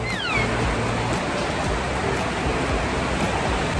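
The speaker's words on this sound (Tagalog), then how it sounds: "Napakalakas ng ulan." Heavy rain pours down as a dense, continuous hiss of broadband noise. A brief high meow-like cry sounds near the start, then the downpour carries on steadily.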